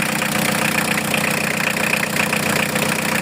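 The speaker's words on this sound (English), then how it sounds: "Running the engine now." A vehicle engine idles steadily after a new coolant tank install, a loud, even rumble close by that runs unbroken throughout.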